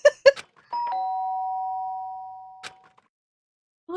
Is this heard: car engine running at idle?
no